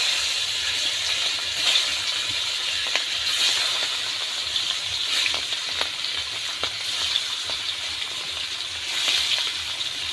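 Pieces of hilsa fish sizzle and crackle steadily in hot oil in a pan, a dense continuous frying hiss with small pops, close and fairly loud with no talking.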